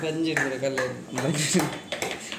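A carving tool is tapped into wood during hand wood carving: a series of sharp, close, ringing metallic knocks at irregular intervals, with a person talking between them.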